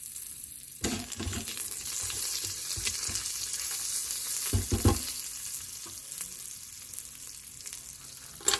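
Green chilies fry in hot oil inside an Instant Pot while jackfruit biryani is made, giving a steady close sizzle with a couple of louder crackling stir bursts.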